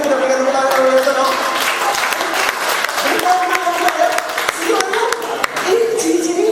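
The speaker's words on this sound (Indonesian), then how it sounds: "Mari kita berikan tepuk tangan kepada Tuhan." Audience applause fills a hall during a religious family talk, with loud, sustained clapping and voices cheering and talking over it throughout.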